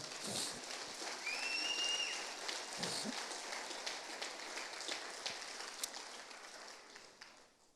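Church congregation applauding the Lord, a broad, rain-like patter of many hands clapping that fades slightly toward the end, with a few brief vocal sounds in the crowd.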